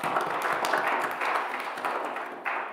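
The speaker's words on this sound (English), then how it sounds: "A huge round of applause for the people from NIDC." Meetup attendees at a BelfastJS event at NIDC break into continuous group clapping, a thick crackle of many hands that stays loud and steady, dipping slightly just before the end.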